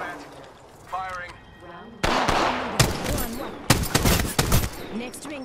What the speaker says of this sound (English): Shot at. Firing.